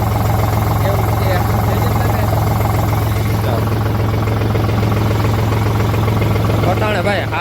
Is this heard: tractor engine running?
yes